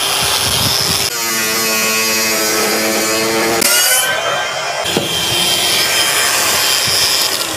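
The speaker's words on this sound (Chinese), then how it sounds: "那么我们现在开始角磨机启动角磨机。" An angle grinder cutting screws off an air conditioner unit, a loud close whine with a grinding, rasping edge that drops out briefly then resumes.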